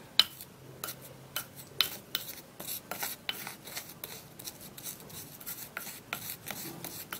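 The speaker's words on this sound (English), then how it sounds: "you're definitely going to be having some lumps of baking soda, so you have to crush it just like what I'm doing" Lumps of baking soda crushed by hand with a utensil, a steady series of short gritty scraping and rasping strokes in a quick uneven rhythm, close and moderately quiet with no talk.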